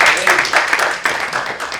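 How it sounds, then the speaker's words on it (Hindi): A burst of applause, with many hands clapping in a dense, uneven patter that thins out toward the end. "जोरदार तालियां बजाएं।"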